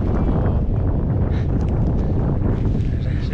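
Strong wind buffets the microphone in a steady, loud rumbling roar in Urho Kekkonen National Park wilderness near Saariselkä, with no other clear sounds.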